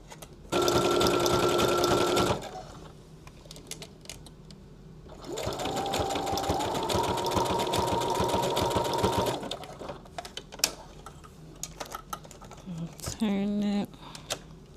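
A sewing machine with an overcasting head runs an overcast stitch around the edge of a fabric pen case in two long, steady bursts separated by a pause, followed by scattered clicks and handling noises.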